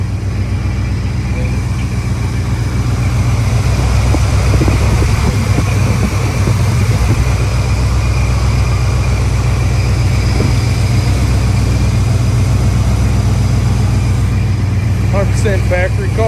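A factory-original Chevrolet Monte Carlo SS with a Quadrajet carburetor idles close by, restarted after more than ten years. The loud, steady, low rumble is unbroken, with faint voices in the background.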